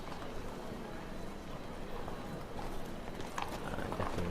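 A horse gallops in The Witcher 3 with rapid, rhythmic clip-clop hoofbeats over a rushing background, getting a little louder near the end, while a voice is faintly present.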